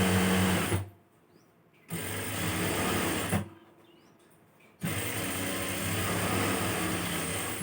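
A sewing machine runs a dummy stitch along a chudithar neck, whirring steadily and close in three long runs split by two brief stops.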